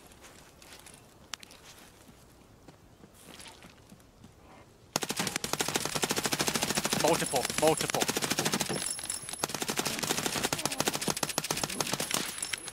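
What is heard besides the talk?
gunfire in Escape from Tarkov video game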